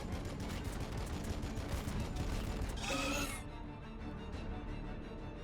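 Gunfire in the Battlesector strategy game, a steady patter of distant shots layered over a dense battle din, with a brighter burst near the middle before the noise settles lower.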